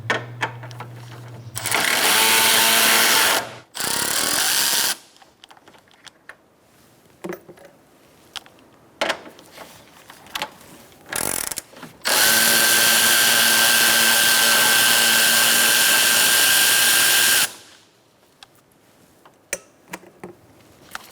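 A power tool with a 10mm socket spins out bolts during radiator removal on a 2014-2019 Kia Soul 1.6L, several loud, high-pitched whirring bursts of a few seconds each, the longest near the end, separated by quiet clicks and handling noise.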